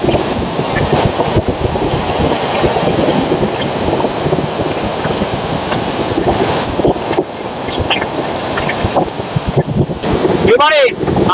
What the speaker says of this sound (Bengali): এবারে আমাদের সাথে দেখা হয়ে যাবে ট্রেন নাম্বার 12074 ভুবনেশ্বর থেকে হাওড়া জনশতাব্দী এক্সপ্রেস চলে আসছে।